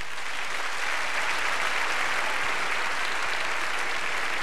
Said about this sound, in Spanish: I want you to give them a big hand.